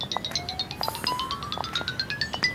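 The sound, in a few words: phone ringtone, incoming call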